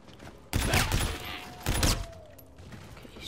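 Gunfire in the video game Call of Duty: two loud, broadband bursts of shots, each lasting about a third of a second, separated by a pause over a steady background of game ambience.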